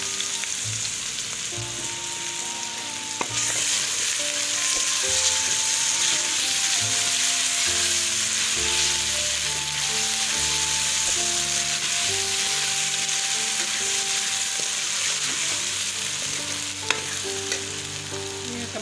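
Garlic ginger paste fries with onions in a pan, giving a steady close sizzle with stirring scrapes throughout, while tonal music plays underneath.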